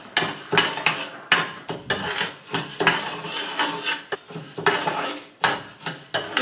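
Toor dal is dry-roasted in a heavy-bottomed pan, with a quick series of scraping, clattering stirs of a utensil against the metal, close and loud, with no talk.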